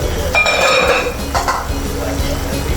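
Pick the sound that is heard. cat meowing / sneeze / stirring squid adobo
stirring squid adobo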